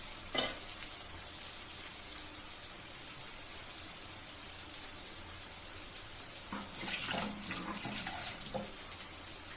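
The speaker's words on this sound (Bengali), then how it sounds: "এবার পেঁয়াজটা দেখুন লাল লাল ভাজা হয়ে গেছে।" Quiet, steady sizzling of onions frying in oil in a pan, with a few clinks and stirring noises near the start and toward the end.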